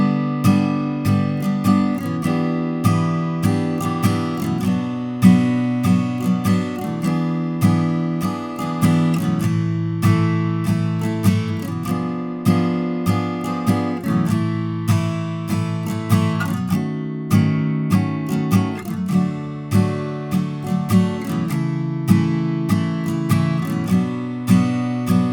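A guitar strums the chord changes of the bridge of a song in a steady rhythmic pattern, close and bright, with chords shifting every bar and no voices.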